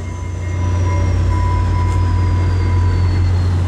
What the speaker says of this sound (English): Look at the size of the train.